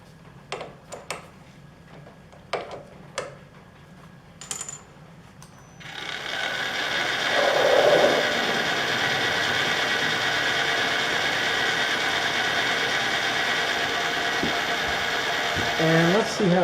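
A power drill bores a small pilot hole. A few light taps and clicks come first, then the drill starts and runs as a loud, steady whir close by until the end.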